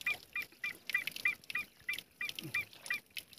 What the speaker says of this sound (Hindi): कौन चिड़िया चुड़िया का घोंसला, चिड़िया का बच्चा जो कर रहा है